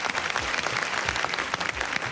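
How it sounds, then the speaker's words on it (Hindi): A studio audience claps steadily for a Pakistani Independence Day TV show's participants, dense and even with no voices. "के लिए बहुत सारी तालियां बजा दें एकदम।"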